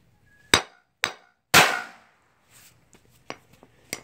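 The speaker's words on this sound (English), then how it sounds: "Now I'm going to hit it with a hammer." Three sharp hammer strikes on a shock- and friction-sensitive firecracker explosive composition crack out in quick succession, the third loudest with a brief ringing tail, followed by a few smaller taps and pops.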